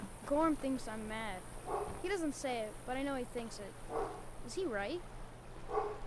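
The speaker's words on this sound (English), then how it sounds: "Sorry about my dog." A dog in Skyrim gives a run of short barks and whimpery yips, close and moderately loud, spaced across the stretch while a character speaks over them.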